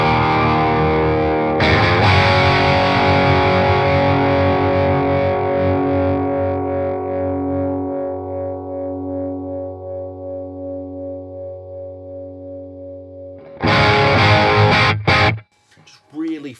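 An electric guitar played through a D.Effects DE01 Iceberg hand-built overdrive pedal rings out in a crunchy, full chord that sustains and slowly fades. A final burst of distorted strums ends abruptly.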